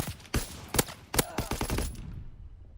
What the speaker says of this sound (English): Of course you're using an automatic weapon.